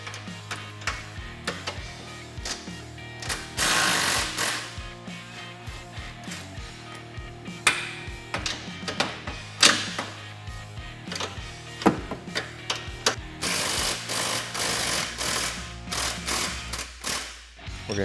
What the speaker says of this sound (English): We're gonna go through and remove the lower A-arm bolts.